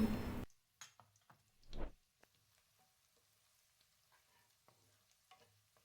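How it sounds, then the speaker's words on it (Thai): Quiet frying of sliced shallots and minced garlic in oil in a wok, with a few stirring scrapes and soft sizzling bursts, close by, no talking. "ตั้งกระทะใบเดิมใส่น้ำมันลงไป แล้วนำหอมแดงหั่นกับกระเทียมสับ ลงไปผัดให้หอม"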